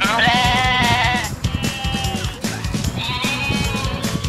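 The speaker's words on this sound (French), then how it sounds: "vous avez fait peur à la chèvre" A frightened goat bleats loudly and close by, with long wavering cries that break off briefly and then resume over faint background noise.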